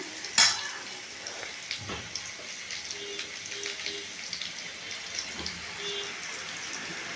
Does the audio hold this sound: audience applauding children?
no